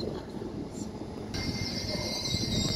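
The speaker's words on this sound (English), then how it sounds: "Northern Trains here at Doncaster Station today on this local station stopping service to Leeds." A Northern Trains train at Doncaster station makes a steady rumble, with a high squeal or whine that swells partway through. The sound is fairly close.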